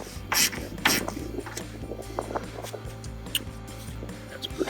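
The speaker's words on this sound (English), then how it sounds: "Again, I have my 10mm socket," A quarter-drive ratchet with a 10mm socket tightens a nut on a RAM 2500 cold air intake, giving close rasping ratchet clicks with a few louder scrapes over a low engine-bay hum.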